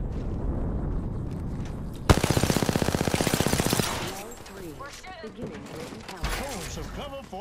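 Apex Legends gunfire: a rapid automatic burst of evenly spaced shots, loud and close, then scattered game sounds and chirps follow as the shooting stops.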